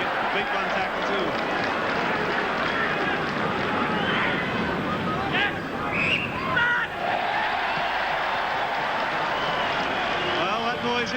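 Large rugby league crowd at Carlaw Park during a 1983 Kiwis versus Kangaroos test, a loud sustained roar and murmur reacting to a New Zealand penalty, with faint whistle-like tones partway through.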